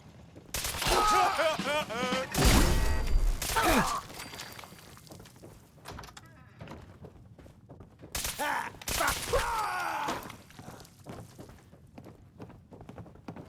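Gunfire in Fallout 4 comes in rapid bursts of shots spread through the fight, loud and close, mixed with shouting voices and scattered impacts between volleys.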